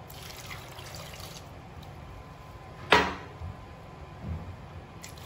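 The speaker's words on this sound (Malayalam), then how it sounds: "ഇനി നമുക്കിതിലേക്ക് വെള്ളം ഒഴിക്കാം." Water splashes into a pot of sweet potatoes in a brief, bright pour at close range, with a faint trickle afterward against quiet kitchen background.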